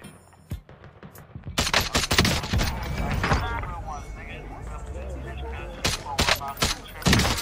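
DMR rifle fire cracks out in Warzone in quick, sharp repeated shots, loud and close, mixed with game noise while a player talks excitedly throughout.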